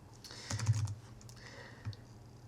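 Quick bursts of keystrokes on a computer keyboard enter a Google search, clicking close and fairly soft with an uneven rhythm, a dense flurry near the start and a lone press later.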